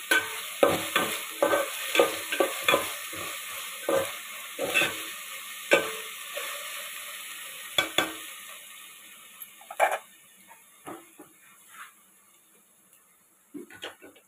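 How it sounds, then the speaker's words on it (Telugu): Onions fry in oil in a big boiler for natu chicken curry, with a steady close sizzle broken by repeated scraping stirs of a ladle against the pot. "ఎర్రగా వచ్చేదాకా వేపుకోవాలి."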